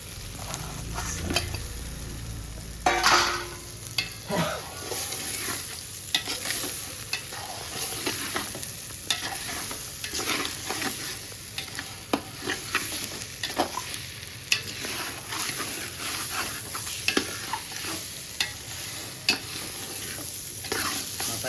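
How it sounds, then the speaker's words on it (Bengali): Fish heads fried and stirred with rice in a pan for a Bengali muri ghonto, giving a steady close sizzle with repeated scraping strokes of a spatula against the pan and no talking. "এরপরে আমি মাথাগুলো দিয়ে ভালো করে একটু কষিয়ে নেবো"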